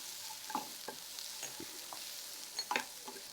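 Small onions sauté in a pan, producing a soft, low frying hiss with scattered light stirring scrapes and clicks, fairly quiet and close, no talking.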